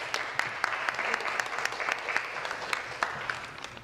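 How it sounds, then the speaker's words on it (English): Audience applause in a legislative chamber during a bill's second reading, a steady wash of many hands clapping with sharp individual claps standing out throughout. "Applause should be given to them for being here."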